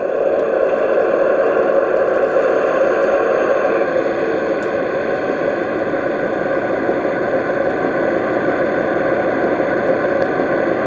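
A steady model train diesel engine sound from an HST with EM2 speakers idles continuously at an even level, with a faint high whine layered on top and no talking.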